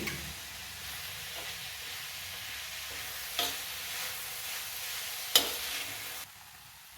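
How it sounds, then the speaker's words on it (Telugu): Banana flower pieces sizzling over medium flame in a pan: a steady soft hiss with a couple of sharp spatula taps, close up, ending in an abrupt drop near the end. "మీడియం ఫ్లేమ్ మీద ఒక ఐదు నిమిషాల పాటు ఈ ముక్కల్ని పూర్తిగా మగ్గనిద్దాం"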